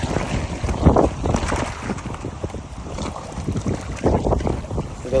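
Gusting wind buffets the microphone beside a seawall on a blustery day, with water sloshing and churning nearby in uneven, swelling bursts, loud and close throughout.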